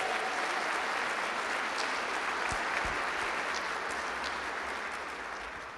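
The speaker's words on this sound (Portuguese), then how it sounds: "Dá um aplauso aí ao Senhor." A congregation applauding during a church service, a dense, even wash of clapping that stays steady and fades slightly toward the end.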